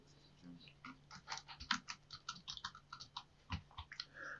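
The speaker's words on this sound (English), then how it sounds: "I'll type out the text gender." Fingers tapping out a word on a computer keyboard, a quick irregular run of close, faint clicks and key presses.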